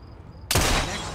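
A single sharp gunshot in Assassin's Creed Syndicate cracks out loud and close after a quiet moment, then fades into a short ringing tail.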